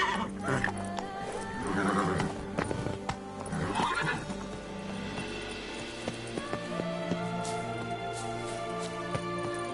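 A horse in The Witcher 3: Blood and Wine whinnies loudly, with clip-clopping hooves and a steady in-game musical backdrop.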